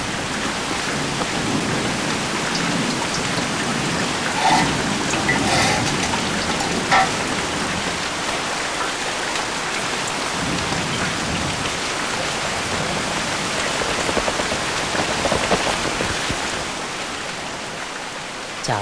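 Heavy rain pours down in a steady, dense hiss that lasts throughout, with a faint rumble of thunder and no voices.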